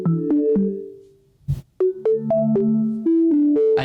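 An office phone system rings with a melodic electronic tone, repeating short stepped note patterns, fairly loud and alone with no talk.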